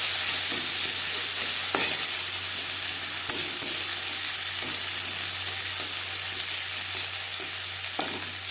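Onions fry in a pan for a fish and pea curry, giving a continuous hiss and crackle with occasional spatula taps and scrapes, near and fairly loud.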